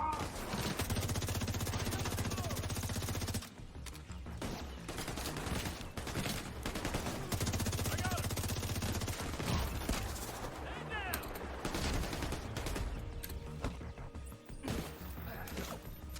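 Gunfire in The Division 2 shooter game, near and loud: sustained automatic bursts and rapid shots fill the clip almost continuously, with heavy impacts and a constant low game rumble underneath.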